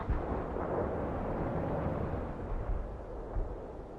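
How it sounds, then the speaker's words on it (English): Artillery shells exploding in the World in Conflict video game, a dense continuous rumble of blasts blending into one heavy roar, fairly distant and without speech. "Delivering a rain of shells at target"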